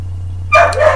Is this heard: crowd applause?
no